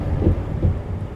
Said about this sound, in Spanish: Vaya, nunca me había tocado truenos y relámpagos